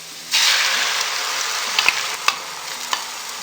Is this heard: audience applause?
no